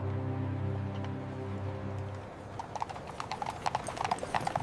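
Horses clip-clop on a street in old Chicago, their hooves ringing out in sharp, irregular knocks that grow denser toward the end, under a low steady tonal hum in the first half.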